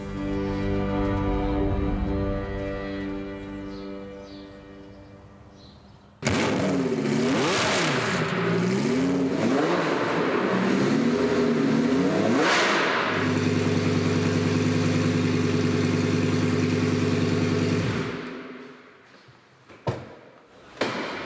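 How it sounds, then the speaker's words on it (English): A racing car with a loud exhaust revs hard and close, its engine note climbing and falling in sweeping surges before settling into a steady roar that cuts off abruptly near the end. "Das ist der laute Auspuff, ne?"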